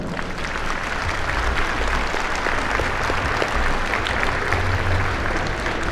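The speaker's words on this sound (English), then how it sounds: "Please give them all a round of applause." Loud, sustained applause from an audience at a 4-H dairy cattle show honouring the competitors, a dense, even wash of many hands clapping with no break.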